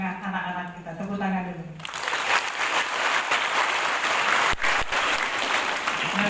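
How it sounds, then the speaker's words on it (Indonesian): Audience applause at an education discussion forum at a girls' Islamic school in Padang Panjang, starting after a brief stretch of speech and swelling into a dense, sustained round of clapping from a large crowd. "Tepuk tangan dulu."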